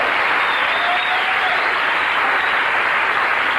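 Studio audience of a sitcom talk show applauds loudly and evenly, a dense unbroken wash of clapping lasting a few seconds with no talk.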